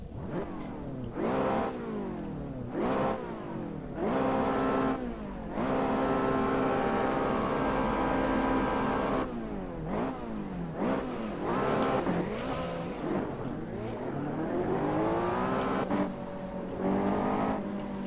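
A Ferrari Challenge race car on a formation lap, repeatedly braking and accelerating, its engine note rising and falling in close, loud revving sweeps, with brief gaps between bursts.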